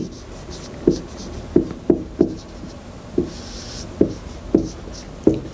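Chalk tapping and scraping on a board during a Sanskrit grammar lesson, a series of about nine short knocking strokes at an uneven pace, close and fairly loud in a quiet room.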